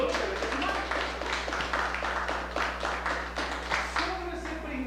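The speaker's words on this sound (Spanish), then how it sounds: "Démosle aplauso a Monseñor Romero." A church audience applauding Monseñor Romero during a talk on the Church's social doctrine, a dense wash of many hands clapping steadily for several seconds, fairly loud and filling the hall over a low hum.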